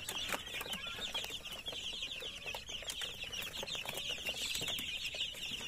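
Twelve-day-old chicks crowding a brooder, a dense chorus of high peeping and cheeping with scattered rustles and wing flutters, continuous and close.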